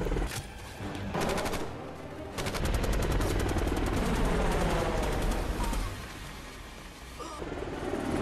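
Rapid bursts of automatic gunfire from a helicopter rattle over a dense, heavy roar, with sustained loud blasts and chaotic battle noise throughout.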